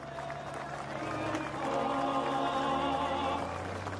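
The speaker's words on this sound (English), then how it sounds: "Let's give them a round of applause." Air show crowd applauding outdoors, a broad wash of clapping and cheering that swells and holds steady for several seconds, with an announcer's amplified voice and engine hum underneath.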